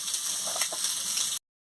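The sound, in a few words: egg frying in a pan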